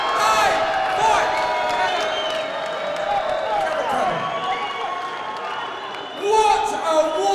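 Crowd at a WCMMA14 mixed martial arts event cheering and applauding after the Fatjon Dafku vs Dave Fuller fight, a steady roar with whoops beneath an announcer speaking loudly over it.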